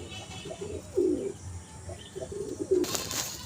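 Low, throaty cooing from a pair of pigeons at a home loft repeats in short phrases, fairly faint, with a sharper rustle or flap near the end.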